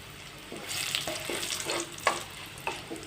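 Asafoetida and dried red chilies frying in hot oil, a steady soft sizzle with a few brighter crackles and scraping stirs, close and alone without voices.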